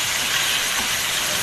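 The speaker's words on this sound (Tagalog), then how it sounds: "kumukulo na po" Chicken broth for pansit bihon comes to a boil in a pot, giving a steady, even hiss of bubbling and steam that holds constant throughout with no talking.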